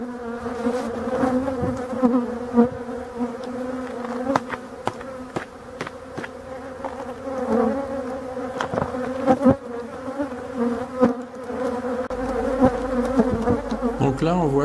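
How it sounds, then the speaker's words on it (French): Honeybees buzz loudly and continuously at close range during a honey harvest in Brittany, a dense agitated swarm drone stirred up by the smell of exposed honey, with sharp clicks and knocks scattered throughout. "les abeilles continuent à s'énerver parce qu'elles sentent le miel"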